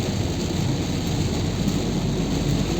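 Steady rain pours during a drive through the Lonavala ghat on the Mumbai-Pune route, a dense, even wash of noise that holds unbroken for a few seconds, with no voices.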